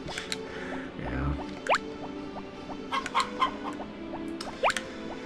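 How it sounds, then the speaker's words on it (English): Chickens cluck in the farming game Harvest Moon: Back to Nature, with a few separate bursts of clucks and rising squawks over a steady game background hum, fairly close and moderately loud. "let's feed our chickens for the last time."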